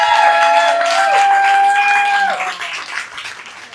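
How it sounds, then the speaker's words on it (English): A comedy-club audience applauds military veterans with a steady wash of clapping and high whoops or whistles that gradually fades toward the end. "Clap it up for everybody that did one time."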